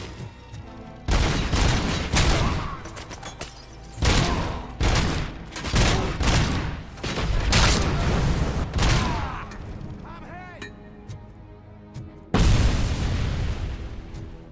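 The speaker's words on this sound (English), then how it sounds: "And there was a machine gun somewhere down the line." Rapid bursts of machine gun fire in the shooter game RoboCop: Rogue City, loud and repeated in several clusters with brief pauses and a heavy boom near the end, no talk.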